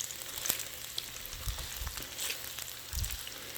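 Korean tteokbokki rice cakes fry in a pan with too much oil, giving a faint, crackling sizzle with scattered pops and light stirring taps.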